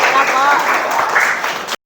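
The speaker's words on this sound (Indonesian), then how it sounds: "Tepuk tangan untuk kelompok 2" A classroom group gets a brief burst of applause for group 2 after its presentation, a short dense patter of many hands that stops abruptly.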